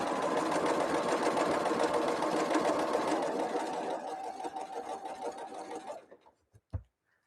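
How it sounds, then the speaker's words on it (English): A Bernina 153 sewing machine, about 25 years old, runs in a steady fast whir of stitching for several seconds, then slows and stops, followed by a couple of soft clicks. "This machine, I am sewing on a Bernina 153."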